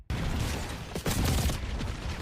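Video game gunfire crackles in a dense fusillade of rapid overlapping shots, loud and continuous for a couple of seconds.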